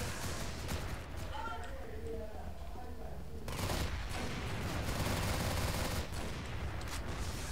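Rapid automatic gunfire from a Steyr TMP in the online shooter CrossFire, dense bursts of shots and fusillades rattling continuously with a voice talking over the action.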